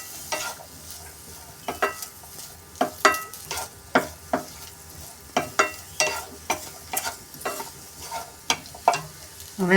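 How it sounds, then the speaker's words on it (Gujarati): A spoon scrapes and stirs boiled sweet corn as it warms in a pan, giving a steady series of close, rhythmic scraping strokes over a faint sizzle. "બાફેલા મકાઈ છે, થોડુંક જ ગરમ કરવાનું છે"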